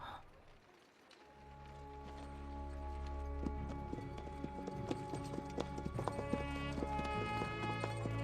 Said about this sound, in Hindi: ये घोड़े बर्सियन हैं।